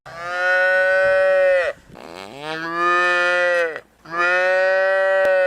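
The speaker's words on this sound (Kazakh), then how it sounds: "Бұл бұзау." A calf moos three times, each call long, loud and close, with short pauses between the bellows.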